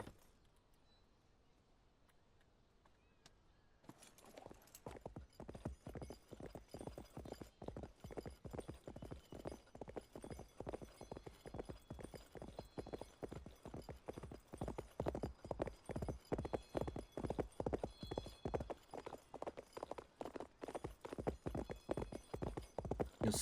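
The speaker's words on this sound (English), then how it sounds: "A horse is galloping, full stamina, boom." Horse hooves gallop in a steady, fast, loud rhythm of clip-clop beats in a cowboy video game, starting after a few quiet seconds and running on to the end, with no talk over them.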